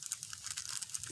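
A plastic bag crinkles and rustles in brief bursts while being pulled snug over a mushroom log, the soft crackles close and fairly quiet with no talk.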